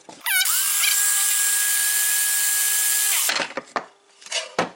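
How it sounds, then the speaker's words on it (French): A small electric blender grinds dried wild nettle leaves into powder, a loud whining motor hum that spins up sharply, holds steady for about three seconds, then cuts off, followed by a few rattling, clattering knocks. "je découpe un peu comme ça, vite fait, hop, et après je mixe"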